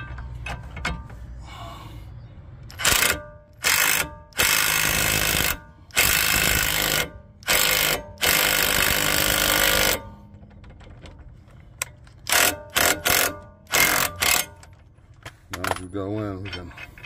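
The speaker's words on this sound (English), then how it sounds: "Then I'm going to screw the nut, lug nut on, then hit it with the impact." A pneumatic impact wrench runs a lug nut down onto a replacement wheel stud on a 2007-2010 Saturn Outlook or Chevy Traverse, giving repeated loud hammering bursts of about a second each, separated by pauses and light metallic clinks.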